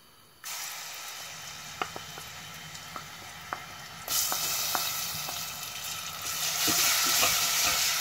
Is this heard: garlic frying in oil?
yes